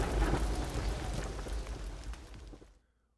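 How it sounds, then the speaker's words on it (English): A dense rumble of thunder mixed with heavy rain, loud and broad at first, then gradually fading away to silence over about three seconds. "his pleas were swallowed by the roar of"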